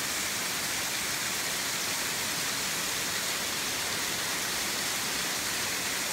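Waterfall in a gorge along a nature walk, heard as a loud, unbroken broadband roar of falling water that holds steady throughout, with no voices.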